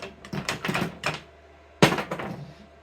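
Wire on a General Electric industrial-grade ballast is trimmed with a few close, sharp snips and clicks, one loud cut standing out near the end, with no talking.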